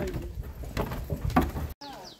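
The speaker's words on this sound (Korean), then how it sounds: "아, 새소리 좋다." Birds sing along a mountain trail on Suraksan in Korea, their calls and coos steady through a short stretch under a low murmur of hikers' voices, then cut off briefly.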